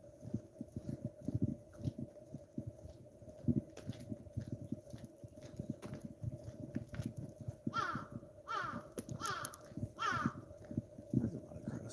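Several harsh caws from crows ring out toward the end, over a background of low rhythmic thumping and faint rustling, during a morning walk in Daigo, Japan.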